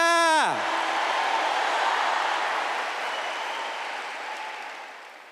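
Church congregation applauding loudly during a Catholic friar's sermon, a dense, even wash of clapping that begins after a brief descending tone and slowly fades over several seconds.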